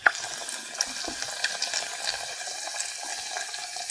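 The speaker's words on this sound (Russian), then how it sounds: "Видите, как зашворчало." Steady sizzling and crackling of battered cheese frying in a pan, close up, with small pops throughout and no talking.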